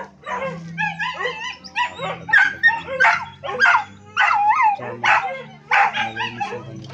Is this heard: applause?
no